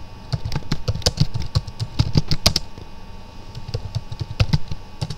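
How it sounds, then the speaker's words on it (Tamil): Typing on a computer keyboard for a Microsoft Word 2016 document, with rapid, close key clicks in bursts, a short pause midway, then more keystrokes over a faint steady hum. "இந்த மாதிரி டைப் பண்ணியிருக்கேன்"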